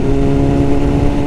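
A motorcycle rides ahead on a road, its engine giving a loud, continuous rumbling drone with harmonic whine, close and steady, with no talking.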